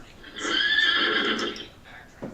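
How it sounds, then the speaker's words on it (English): Horse neighing loudly for about a second, a shrill whinny that trails off, followed by a faint short snort, heard alone at close range. "Okay, it's a horse."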